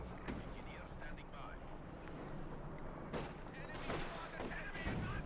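MG42 machine gun fire in the real-time strategy game Company of Heroes 2 rattles in faint bursts amid distant artillery-like booms, under a caster's continuous commentary.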